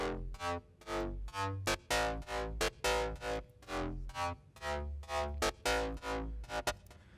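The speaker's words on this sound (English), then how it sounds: "Yeah, it's just some FM synths." A gritty FM synth bass from a lightly tweaked Serum preset plays a busy rhythmic dance pattern, loud and distorted with punchy low notes and bright harmonic stabs, running steadily without talk.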